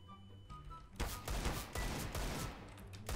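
Loud rapid gunfire bursts in Counter-Strike: Global Offensive, a quiet start giving way to repeated sharp shots from about one second onward, close and dominant.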